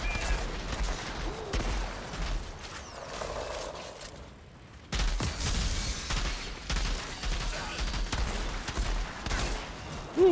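Sniper rifle fire in a video game comes as bursts of sharp shots mixed with mechanical clicks of the weapon, broken by a short near-silent gap before the firing resumes.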